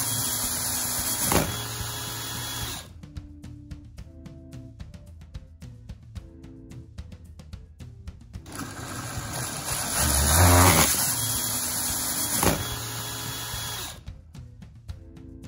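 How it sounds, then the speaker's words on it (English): A power drill drives a LEGO wheel as a motor, giving a loud high-pitched whine in two long bursts with a quieter stretch of rattling between them. "I guess that's what happens when you use your drill as your Lego motor."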